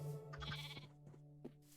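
Sheep bleating in the video game Minecraft, a few short wavering bleats close by over a quiet background, with a small click near the end.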